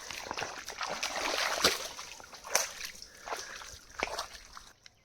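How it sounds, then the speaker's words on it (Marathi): A crab trap goes into the water with soft, scattered splashes and sloshing, faint but close, separated by short quiet gaps. "हे ट्रॅप लावताना मंडळी तुम्ही कसंही पाण्यात टाकू शकत नाहीत"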